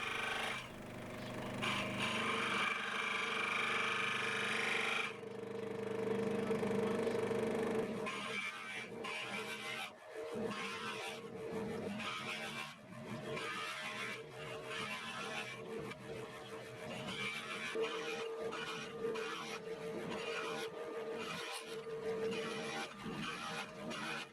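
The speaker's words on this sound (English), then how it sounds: "tilted the bed of the scroll saw to cut the teeth out to the correct angles" A scroll saw with its bed tilted cuts angled teeth into a wooden part for a handmade adjustable wrench, giving a steady, close buzzing rasp of the blade through wood with short pauses between cuts.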